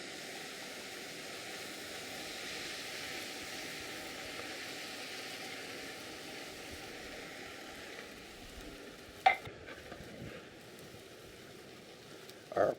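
Tomato sauce fries with onions and garlic in a hot pan, a steady broadband sizzle like light rain that holds evenly throughout, with a couple of brief utensil clatters near the end.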